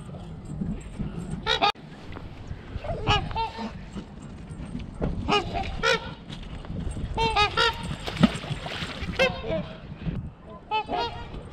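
Geese honking nearby in a series of loud, close nasal calls arriving in clustered bursts, with rustling and movement between them.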